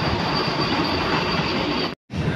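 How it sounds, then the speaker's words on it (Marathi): A train pulls into Bor station with loud, continuous rumbling and rattling wheels and some squealing, close by. A brief dropout interrupts the sound near the end. "आपली ट्रेन आता आलेली आहे।"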